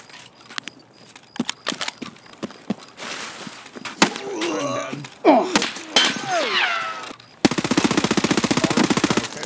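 A tactical shooter game firefight: sharp single gunshots snap at irregular intervals, then a sustained rapid burst of automatic fire closes it out. Players talk over the action, and there are squeaky, creaking sounds in the middle.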